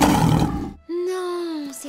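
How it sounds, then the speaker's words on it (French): A lion roar in a French animated cartoon, a loud rough burst followed by a long tonal sustained cry, close and prominent. "Non, c'est un lion, ça."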